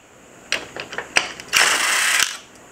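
Bolts being pulled out of steel blacksmith armor scales, giving several short metallic clicks and scrapes followed by a sustained rasping grind of about a second, close and alone.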